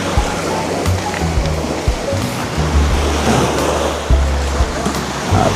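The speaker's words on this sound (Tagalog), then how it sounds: "Napaka-fresh ng dagat." Sea waves surge and wash steadily onto the shore at a beach resort in Batangas, a continuous broadband roar with occasional louder swells.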